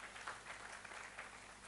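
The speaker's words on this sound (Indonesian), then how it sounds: "Tepuk tangan yang paling meriah buat Tuhan Yesus." A church congregation claps together, a dense steady wash of applause that sounds faint and distant, lasting under two seconds.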